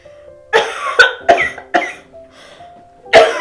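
A sick woman coughs close by in a series of harsh, separate bursts with short pauses between them, plus one final cough after a quiet gap.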